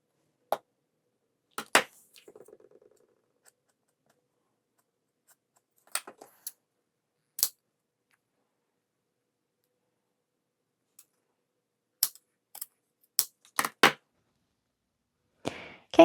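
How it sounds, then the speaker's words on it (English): Scissors cut 1-inch webbing into short lengths, giving a few sharp, isolated snips and clicks spaced apart by long quiet gaps, close and alone. "And you're going to cut 2 lengths of this webbing that are each 3 inches long."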